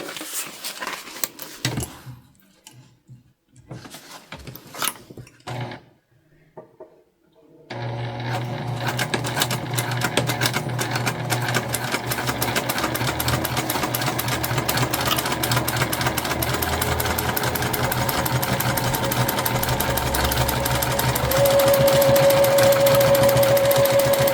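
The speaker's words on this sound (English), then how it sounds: "now we'll stitch this on" Sewing machine stitching fabric for a bum bag: a few seconds of sparse handling noises and pauses, then a continuous, fast, even mechanical whirring that runs steadily to the end.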